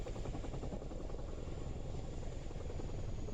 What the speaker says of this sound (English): The sound of the helicopter is actually pretty it's pretty satisfying in my opinion.